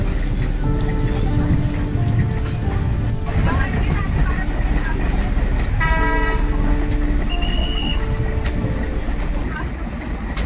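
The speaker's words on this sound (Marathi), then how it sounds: "हळूहळू ट्रेन सुरू झाली" Safari train in Sanjay Gandhi National Park starting off and running in rain, a steady continuous rumble of wheels with brief tonal toots and squeals, constant loud texture throughout.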